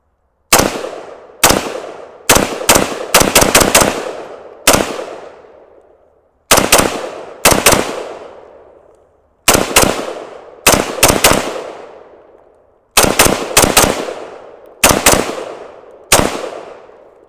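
A VZ 58 rifle loaded from a Fab Defense magazine fires a string of loud, close single shots, each sharp crack followed by a ringing echo, some in quick doubles and triples with short pauses between.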